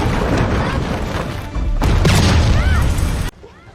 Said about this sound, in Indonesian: Sesaat kemudian camp tersebut pun meledak dan tanah di sekitar mereka juga ikut meretak.